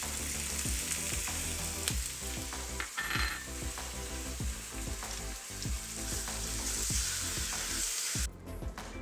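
Beef and garlic sizzle and crackle in a hot oiled FoodyLabs wok, a steady close frying hiss punctuated by scraping and clinking as the pieces are stirred.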